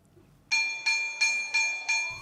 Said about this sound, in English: As the school bell rings for the lunch break